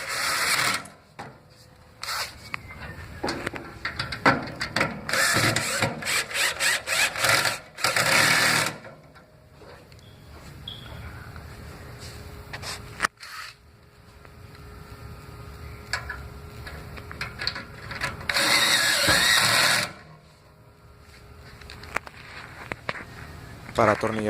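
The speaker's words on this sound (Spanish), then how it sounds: "Con ayuda del taladro y una punta Torx, atornilla los 4 tornillos que sujetan el frame" A power drill fitted with a Torx bit drives four screws into a V600/V800 cabinet frame and lid, giving repeated bursts of loud whirring separated by quieter pauses with small handling clicks.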